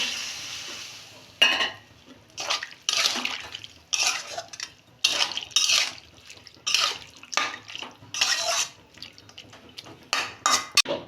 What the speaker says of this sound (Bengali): জল দিচ্ছি আমি